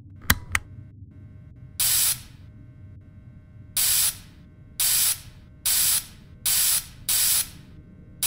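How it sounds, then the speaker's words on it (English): Spray hiss from cleaning a costume suit in a horror video game test room, six separate bursts of roughly half a second each, evenly spaced and loud, with a couple of sharp mechanical clicks at the start. "So go ahead and start spraying the suit"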